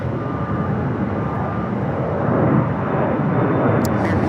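Jet aircraft idling and taxiing at Phoenix Sky Harbor airport while awaiting south-side takeoff on runway 7 left, a steady broad engine roar that swells slightly midway, with no talk.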